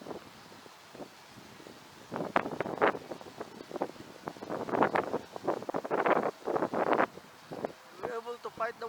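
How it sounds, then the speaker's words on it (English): Strong wind gusts buffet the microphone in rough, uneven bursts of roaring noise during an outdoor flight of a DJI Mini SE drone, with a person talking through the gusts. "Despite the very strong wind"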